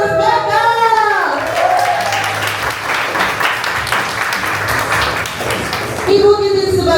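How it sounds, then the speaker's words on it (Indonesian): Audience applause at a staged epic drama performance, steady dense clapping filling the whole stretch, with an announcer's voice speaking over the start and end. "Kita beri tepuk tangan bagi Ibu Ajeng sebagai pengurus backup,"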